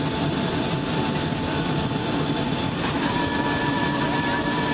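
Steady broadband roar inside the cabin of a US Airways Boeing 757-200 on landing approach into Philadelphia, with a faint constant tone riding over the dense engine and airflow rush throughout.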